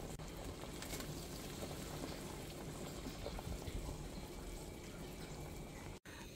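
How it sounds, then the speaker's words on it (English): A pot of Querétaro-style chicken soup bubbles and simmers steadily at a low, soft level, a continuous gurgling wash with no voices. "Our soup is boiling now"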